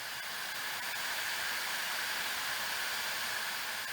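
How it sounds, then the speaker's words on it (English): Hauzzo ionic hair dryer on its high speed, low heat setting, blowing a steady, close, even airy hiss with a faint whine and no talk over it. "we are going to start it up in the high speed setting and in the low heat setting."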